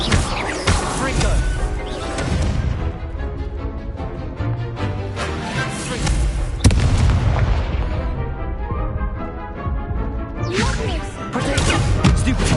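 Spell explosions and blasts in the video game Hogwarts Legacy, including the Confringo fire spell, come as booming crashes and impacts over dense game music and effects, loud and nearly continuous.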